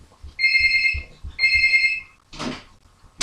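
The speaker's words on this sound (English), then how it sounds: "Okay, my intercom's ringing." An intercom rings in two bursts of shrill electronic tone, each lasting under a second, heard up close indoors, followed by brief rustling and a short knock-like sound.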